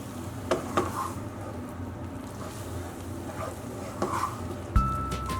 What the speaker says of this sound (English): So as you can see, it's still cooking and the heat is off.